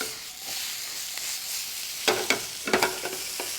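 Peppers and spinach for a vegan breakfast hash sizzle steadily in a pan and are tossed with a push-and-pull motion, the hiss punctuated later by a few louder scraping bursts from the pan.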